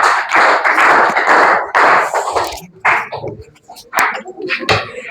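A classroom of students gives a hand clap in several uneven bursts, loud and close, with voices mixed in between the rounds.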